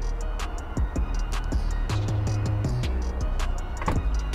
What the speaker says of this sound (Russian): Если подойти с ключами к автомобилю сзади и постоять несколько секунд, сработают поворотники.